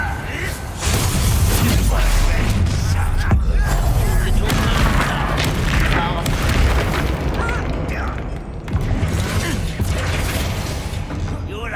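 A Confringo blasting spell explodes in Hogwarts Legacy amid loud, dense battle noise, with booming bursts layered over continuous combat sound and several short sharp hits.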